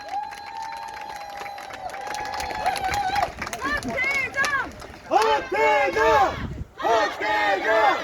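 Crowd cheering and shouting at a Democratic Party local election campaign launch rally in Daejeon for mayoral candidate Heo Tae-jeong, rising into loud repeated chanting bursts from many voices, with an announcer's voice heard early on.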